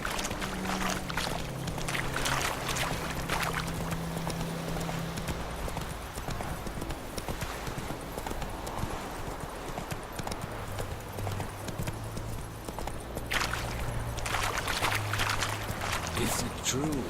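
Hooves of Roach, a horse in The Witcher 3, clip-clopping in a steady rhythm through the game's outdoor ambience, moderately loud, with a voice speaking over them.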